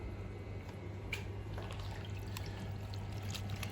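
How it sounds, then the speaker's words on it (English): Soaked gelatin, soft and rubbery, is squeezed by hand during a French cooking class making Christmas marshmallows, and the excess water drips and trickles away in a steady, close, continuous stream with no talking. "I will squeeze it now between my hands just to remove the excess of water."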